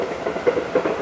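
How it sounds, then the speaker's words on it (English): A train rumbles past very close by in Japan, a low, steady roar with rhythmic clickety-clack pulses from the wheels, loud and unbroken by talk. "that train is very close"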